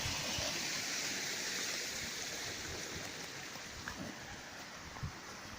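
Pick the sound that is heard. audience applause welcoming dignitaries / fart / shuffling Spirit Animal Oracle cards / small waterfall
small waterfall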